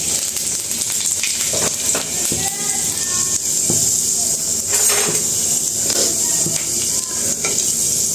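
Cumin, dried chillies, bay leaf and fenugreek frying in hot oil in a wok, a close sizzle with clinks and scrapes of a utensil against the pan, with some talking over it.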